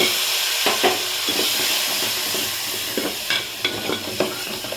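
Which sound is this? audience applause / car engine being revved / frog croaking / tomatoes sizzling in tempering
tomatoes sizzling in tempering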